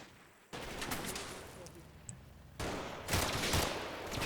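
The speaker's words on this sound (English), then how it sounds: "As mortar rounds continue to fall" Mortar rounds fall in the Combat Mission wargame, a rumbling barrage of broadband blasts that swells loud around the middle and end, with distant crackling gunfire between the impacts.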